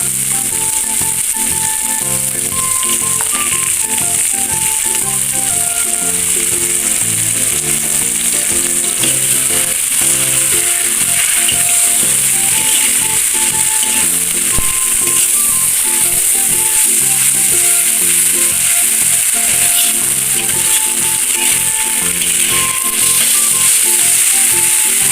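Green chili and fermented soybean paste (tauco) frying in a pan for a Minang squid dish, a steady loud sizzle with faint spatula scraping throughout and no voices.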